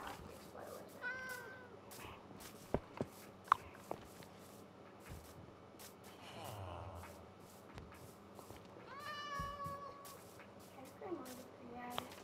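Cats meowing in a video game, several short mewing calls scattered over a quiet game background with soft thuds and faint clatter, voices talking intermittently.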